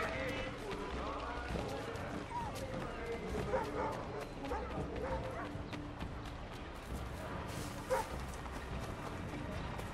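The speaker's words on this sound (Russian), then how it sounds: "Собака лает на ребенка." Dog barking at a child in Assassin's Creed III Remastered, repeated barks sounding amid busy game ambience with hoofbeats and crowd noise, while a player talks over the scene.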